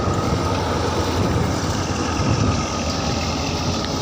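A wheat thresher runs during the harvest, giving a loud, steady engine drone with broadband mechanical rumble that holds evenly throughout with no pauses.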